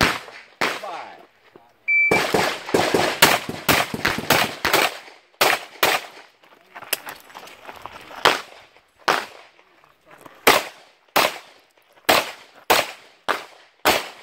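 Single gunshots at a shooting range crack out one after another, sharp and loud, in uneven clusters separated by short silent gaps, with no talking.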